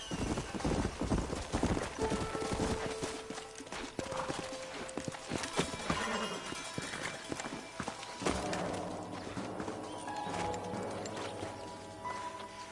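Horse hooves clip-clop rapidly across the ground in a Western video game, several horses moving together, with an occasional whinny and other game sounds mixed in.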